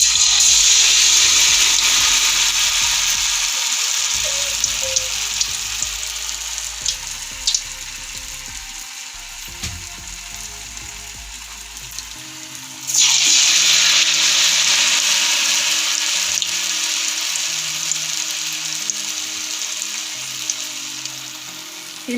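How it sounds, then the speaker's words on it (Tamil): Munthiri kothu sweet dumplings fry in hot oil with a loud, steady sizzling hiss that drops back briefly, then surges again abruptly partway through, with no voices. "நம்ம முந்திரி கொத்து பொரிச்சு எடுத்துக்கிடலாம்."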